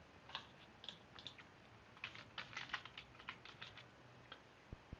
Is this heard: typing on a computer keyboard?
yes